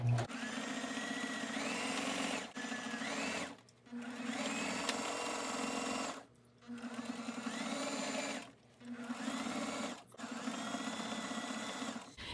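Sewing machine stitching along a piece of fabric in steady bursts, with a continuous motor whine and rapid needle clatter broken by four short pauses, close and loud, with no talk over it.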